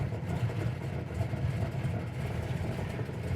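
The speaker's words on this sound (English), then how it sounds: "This Hemi's idling at about 500 to 600 RPM, so it's got that nice thump" A 426 cubic-inch Hemi V8 in a 1970 Super Bee idles nearby at about 500 to 600 RPM with a low, steady, lumpy rumble and a faint rhythmic thump. There is no talking.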